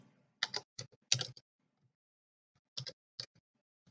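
A computer keyboard is typed on in two short bursts of crisp, close keystrokes separated by silence.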